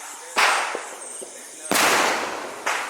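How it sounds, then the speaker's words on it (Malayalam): Firecrackers burst during a Vishu celebration, three loud sharp bangs spaced apart, each trailing off into a noisy crackling tail, with quieter pops between them. "അതിൻ്റെ ഇടയിൽ പടക്കട്ടാ."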